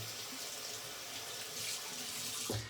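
Running water rinsing shaving soap lather off, a steady close splashing stream from a tap into a sink for a few seconds, alone with no voices.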